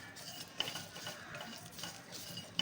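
Dry sukka chicken with kasuri methi is stirred in a pan, producing quiet rhythmic scraping and shuffling strokes, with a small clink at the start and at the end.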